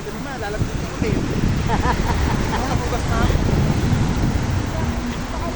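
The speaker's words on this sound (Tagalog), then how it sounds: "Ganda ng dagat dito, Hana, oh. Sobrang lawak. Ayan. Yan yung alon." Steady wash of sea waves on a Bicol beach with wind buffeting the microphone, while a person talks over it throughout.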